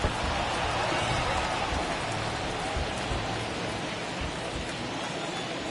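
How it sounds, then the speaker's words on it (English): Heavy rain pours steadily on a baseball game between the Royals and Indians, a dense, constant hiss with no letup, under faint background crowd noise and occasional speech. "that rain is really coming down right now"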